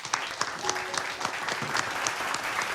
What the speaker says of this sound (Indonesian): Terima kasih Bu Sofianti, boleh kita berikan tepuk tangan.